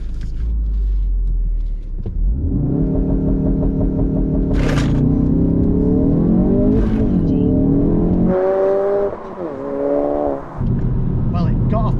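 A Ford Focus RS Mk3 launching from a standstill on a 0-60 run: a low idle rumble gives way to loud, rising engine revs, broken by quick gear changes before the note climbs again, heard close from inside the car.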